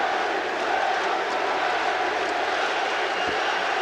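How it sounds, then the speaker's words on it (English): A capacity arena crowd at a 1991 Boston Celtics versus Indiana Pacers playoff game roars in a broad, sustained wash of cheering, steady and loud throughout. "an emotional greeting from this capacity crowd for the Boston Celtics"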